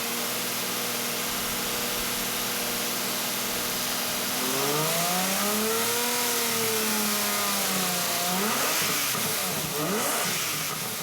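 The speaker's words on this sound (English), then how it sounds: "the only music you're gonna want to hear is the song coming from that engine" A Lamborghini 12-cylinder engine idles steadily, then revs up and back down in a smooth rising and falling sweep, followed by quicker throttle blips, loud and close throughout.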